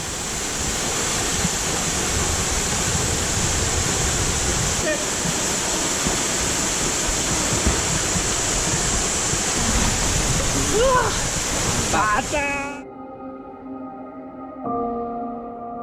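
Ciangin waterfall near Ciater, Subang in West Java roars as a dense, steady broadband rush, loud and close, for about twelve seconds before cutting abruptly to quiet tones.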